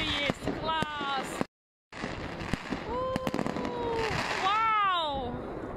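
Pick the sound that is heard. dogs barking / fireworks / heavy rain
fireworks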